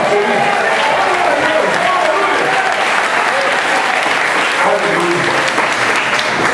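A church congregation at a worship congress claps together in sustained, dense applause that carries on steadily, with some voices calling out above the clapping.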